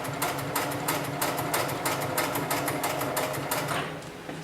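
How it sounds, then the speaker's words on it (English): An industrial sewing machine stitches heavy fall-arrest harness material, running in a fast, steady rhythmic clatter up close before slowing near the end. "set my foot back down and continue sewing"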